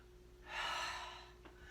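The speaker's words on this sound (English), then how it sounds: "Inhale, exhale." A single audible breath during a cardio core workout, one soft, close inhale-exhale rushing out over about a second in an otherwise quiet room.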